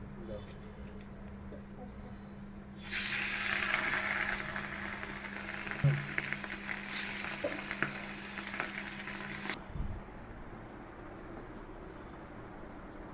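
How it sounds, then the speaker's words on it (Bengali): Hilsa fish pieces hit hot oil in a rustic village-style kitchen, bursting into a loud, steady sizzle that runs for several seconds and then stops abruptly, with a low hum beneath. "আমাদের মাখানো শেষ, আমরা এখন এটা তেলে ছাড়বো।"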